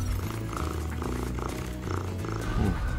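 Cats purring in the Spyro Reignited Trilogy video game (Year of the Dragon), a soft continuous purr blended into steady background game music for the whole stretch.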